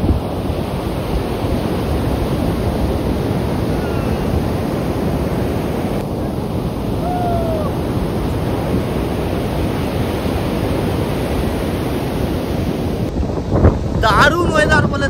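Sea waves and strong wind at Puri beach, a loud continuous roar of surf with heavy wind buffeting the microphone throughout, a brief clatter near the end.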